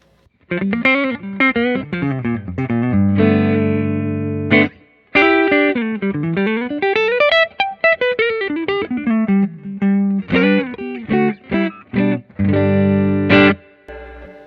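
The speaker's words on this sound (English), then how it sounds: "Today we're going to start with clean amp, so I'll let you hear that." Electric guitar through a clean amp, played fast with bent and sliding notes and some chunky chords, bright and mostly clean with slight grit and a little amp reverb, loud and alone.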